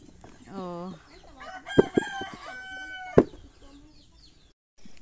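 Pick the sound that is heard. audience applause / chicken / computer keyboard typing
chicken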